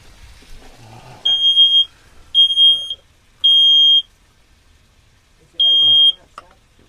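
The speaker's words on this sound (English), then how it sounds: "That is my smoke alarm, which likes to go off, okay, in the camper." Smoke alarm going off inside a camper during cooking: four loud, piercing electronic beeps in an uneven pattern, with quiet kitchen sounds and faint talk between them.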